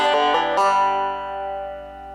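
Banjo plays a short bluegrass fill: three quick plucked notes and then a ringing note left to sustain and fade, clear and close.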